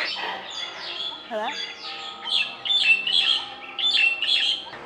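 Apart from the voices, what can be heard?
many birds squawking and chirping in Chiang Mai, Thailand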